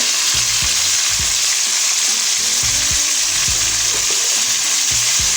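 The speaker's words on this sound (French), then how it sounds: "Je verse donc le jus de poisson, puisqu'il contient aussi du jus de citron." Fish juice with lemon poured into a pot of hot frying oil, giving a steady close sizzle with regular bubbling pops throughout.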